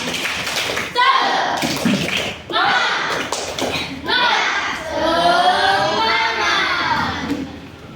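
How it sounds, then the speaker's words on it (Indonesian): In a classroom, schoolchildren chant together while clapping the rhythmic 'tepuk semangat' routine in sharp, patterned bursts with short pauses between phrases. "Tepuk semangat."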